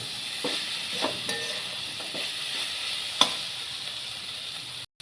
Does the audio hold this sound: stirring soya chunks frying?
yes